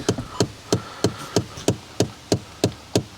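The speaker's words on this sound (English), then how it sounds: "Let's go listen to the click of doom from this stupid blend door deal." A blend door actuator in a 1992 GMC 3500 truck clicks steadily, about ten sharp, evenly spaced knocks in three seconds, close and clear over a faint background hum.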